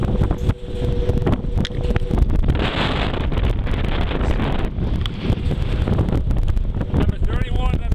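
Strong wind buffets a mountain lookout tower on the summit of Mt Blue, Maine. It makes a loud, continuous roar with gusty rumbling and rattling that persists throughout, with no speech.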